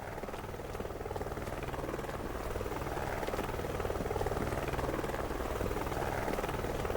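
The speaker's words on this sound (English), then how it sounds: "now we're the ones escaping in a black helicopter" Black helicopter in the video game Wanted: Dead, a steady rapid rotor chop with engine drone, loud and continuous, slightly building, no talk.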